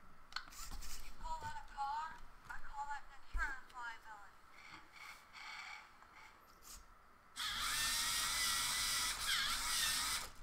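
A LEGO Mindstorms EV3 six-wheel-drive offroader with differentials on all three axles runs its motors and gears, starting with short whirring bursts and then a steady, louder high-pitched mechanical whine, close by with a voice talking over parts of it.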